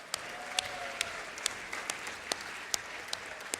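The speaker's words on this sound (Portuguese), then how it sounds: "Eu acho que esses parlamentares merecem os nossos aplausos, né?" An audience applauds parliamentarians at a solemn session in Brazil's Chamber of Deputies in Brasília, steady clapping from a crowd with sharp individual claps standing out, sustained for a few seconds with no talk.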